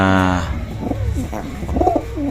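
Close, loud pigeon cooing, low rolling throaty calls overlapping continuously for a couple of seconds.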